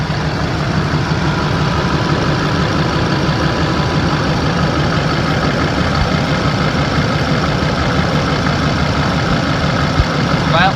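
A 2005 Duramax LLY diesel truck engine idles close by, a steady, loud, low diesel rumble with an even clatter that stays unchanged throughout.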